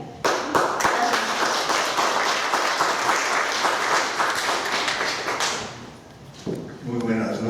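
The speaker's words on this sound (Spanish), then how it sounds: "Nuevamente fuertes aplausos para él." An auditorium crowd at a round-table tribute event applauds steadily for several seconds, a dense patter of many hands clapping, then fades as a voice begins speaking in Spanish.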